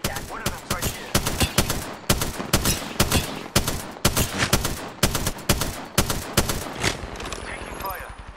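Rapid, rhythmic automatic gunfire in the Apex Legends video game, steady close bursts of shots throughout, with game voice lines over the shooting.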